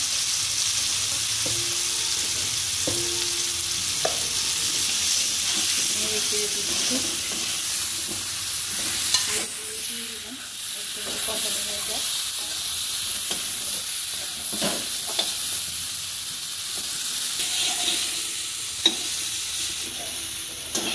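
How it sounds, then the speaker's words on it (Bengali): Cauliflower fries in oil with turmeric with a steady sizzling hiss, punctuated by occasional clinks and scrapes of stirring, no talking. "কপিগুলি কি সুন্দর ভাজা হচ্ছে"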